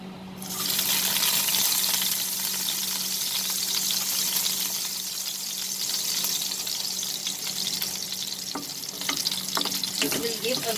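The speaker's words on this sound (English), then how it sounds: "Once the oil gets heated, we will add the chopped" Chopped garlic hitting hot oil, bursting into a loud, steady sizzle that holds close and continuous, with a few utensil clinks near the end and no speech.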